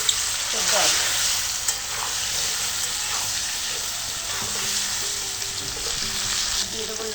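Boiled potatoes frying in a pan with Kashmiri red chilli powder, turmeric and salt, a steady close sizzle with scraping stirs throughout.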